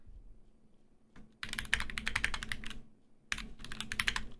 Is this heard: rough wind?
no